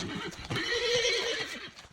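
A stud horse, held for semen collection, lets out a loud, close whinny and squeal lasting about two seconds, with faint hoof shuffling before it.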